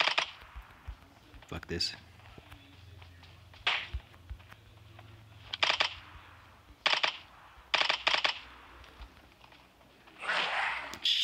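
Sharp, scattered gunshots from a gun in PUBG Mobile's Resident Evil 2 mode, fired in short separated bursts amid footsteps, with someone talking briefly.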